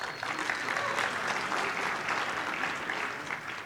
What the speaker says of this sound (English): I hope we clap as much at the end